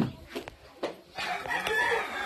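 Roosters crow at a cockfight in Puruándiro, a few short calls and clucks rising over a busy outdoor background of crowd noise.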